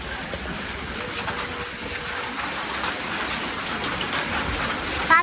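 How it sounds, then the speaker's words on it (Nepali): Heavy rain mixed with hail pelts down steadily in a quiet mountain area near Pathibhara in Nepal, a dense, continuous roar of drumming close by with no let-up. "असिना पानी हेर्नुहोस् त कत्रो असिना पानी पर्दैछ"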